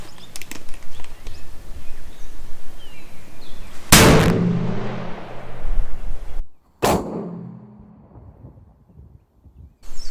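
A custom 300 Win Mag rifle fires one loud, sharp shot outdoors, its blast rolling away in a long echo, followed by a second shorter crack and fading tail over a background of wind and ambient hiss.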